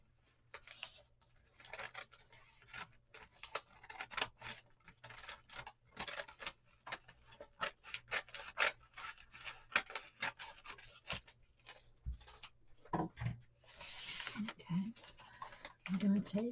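Scissors snip across a sheet of wrapping paper for a gift wrap, a run of close, crisp cuts with paper rustling between them.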